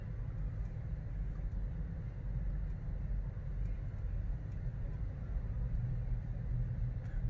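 Road traffic while driving through Gatlinburg, heard as a low, steady rumble of engine and road noise from inside the car, constant and fairly quiet throughout with no talk.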